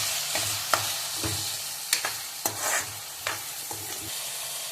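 A spoon stirs turmeric and salt into egg curry in a frying pan, giving a low continuous sizzle punctuated by repeated scraping strokes and light clacks against the pan.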